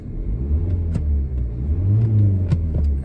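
A 2014 Nissan Qashqai 1.5 dCi diesel engine rumbles close by and rises briefly in a quick rev before settling back to a low idle.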